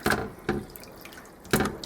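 Tap water runs and splashes over tripe being rinsed for Norteño-style menudo, with a steady pour broken by three louder splashing bursts, close by and without talk.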